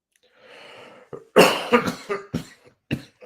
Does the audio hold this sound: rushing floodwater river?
no